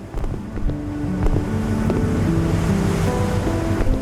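Sea waves surging and crashing against a listing ship in a game about the sinking of the MS Estonia: a loud, continuous rush of surf and wind with a low rumble, no voices.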